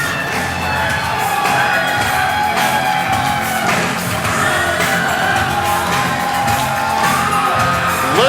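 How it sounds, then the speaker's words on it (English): A wrestling crowd at a 2CW reunion show roars continuously, with cheering, whoops and scattered shouts blending into a dense, loud wall of noise throughout. "Listen to the crowd."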